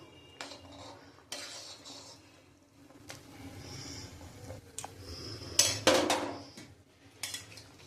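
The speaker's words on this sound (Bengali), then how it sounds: "আমি এবার একটু ঢাকা দিয়ে দেবো।" Metal lid set onto a pot of simmering red lentil dal with flat beans and tomato in a village kitchen, giving a few close clanks and clinks of cookware amid soft stirring and kitchen handling noise.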